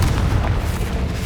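Confringo blasting spell going off in the Hogwarts Legacy video game, a dense, rumbling low boom that sustains for a moment without a sharp onset, loud and close with no voices.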